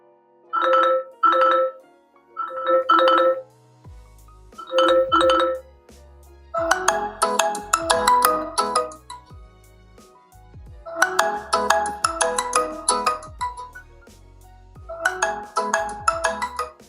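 Ringtone melody from a Poco X6 Pro phone speaker, first short bright chime bursts, then a fuller tune with bass notes, played loud and alone with brief pauses.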